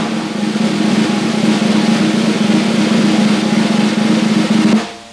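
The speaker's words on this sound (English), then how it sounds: "the press roll or buzz roll" A press roll, or buzz roll, on a snare drum: a continuous, loud, even buzzing wash of dense stick bounces held for nearly five seconds, then cut off, with no voices over it.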